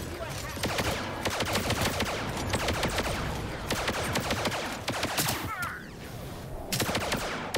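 Dense, rapid bursts of blaster gunfire from the shooter game Star Wars Hunters rattle on loud and nearly without a break, with a faint voice talking underneath.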